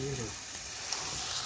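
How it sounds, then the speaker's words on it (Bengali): A pan of fish and plantain curry sizzles and crackles softly as it reheats on the stove, a faint steady frying hiss with a few small pops. "তোমার এই কলা দিয়ে মাছ দিয়ে তরকারি একটু গরম করে নিই"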